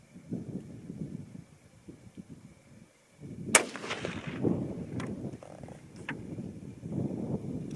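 A .25-06 Remington rifle firing a 110 gr ELDX handload with Reloader 22 powder at an outdoor range: one sharp, loud report midway, set against steady wind rumble before and after.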